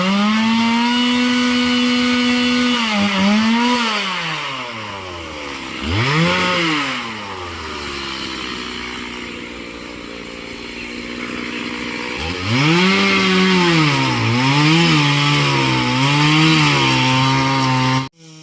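A chainsaw cuts down large trees on land cleared for a quail farm. The engine is loud and close, revving up and down repeatedly, with a long steady whine between the surges.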